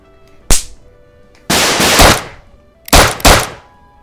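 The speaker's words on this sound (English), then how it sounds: "I better not shoot him again." Loud, close gunshots in a police response VR game: one sharp bang, then a longer burst of rapid fire, then two more quick shots, separated by quiet gaps.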